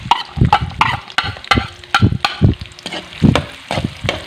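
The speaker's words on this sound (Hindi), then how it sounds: "घी हमारा गर्म हो गया है, तो हम प्याज से शुरुआत करेंगे।" Onions frying in hot ghee in a wok, a close, steady sizzle broken by repeated scraping and stirring strokes at an uneven rhythm.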